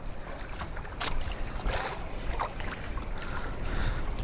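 Strong wind at sea around a small wooden canoe near a reef, buffeting the microphone with a constant rough roar and sharp gusty bursts, water sloshing underneath.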